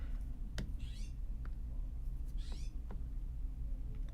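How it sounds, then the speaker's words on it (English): Birds outside a window give a few short, faint chirps over a steady low indoor hum. "birds making a ruckus outside"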